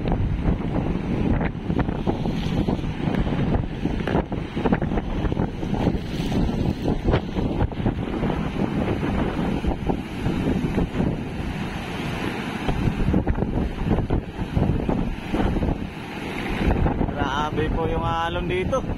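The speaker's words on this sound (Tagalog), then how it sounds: "Hindi basta-basta yung alon." Strong sea waves and gusting wind roar without pause on the coast at Dinahican, Infanta, Quezon, during Super Typhoon Pepito, with heavy surf crashing close by under loud, buffeting wind.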